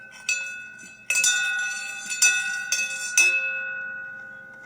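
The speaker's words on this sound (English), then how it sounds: "When the church bell rings, you know it means death." A bell rings several times with bright, sustained metallic tones, each strike overlapping the last and ringing out slowly into silence.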